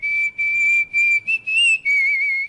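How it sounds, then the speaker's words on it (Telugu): A person whistles a clear, high, steady tune in several sustained phrases separated by short breaths, close and loud with little background noise. "ఏ విజిల్ అంత బాగుందా?"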